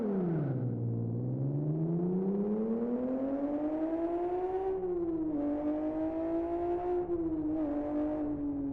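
A car engine, thought to be a V6, revs inside the racing game Live For Speed. It drops low, then climbs in a long steady rise, eases back and surges again through several shifts. The sound is continuous and up front, with no talk.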